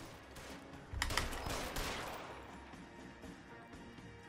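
Gunfire in the L.A. Noire video game, a rapid burst of several shots around the middle, ringing and fading under a steady background.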